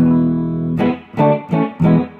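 Clean electric guitar tone through a Strymon Deco pedal, with a little amp reverb: one sustained note rings out, then three short picked chords follow in an even rhythm, close and clear.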